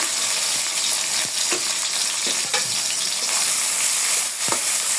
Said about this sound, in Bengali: পেঁয়াজটা আমি বেশি ভাজবো না হালকা একটু নরম করে নেব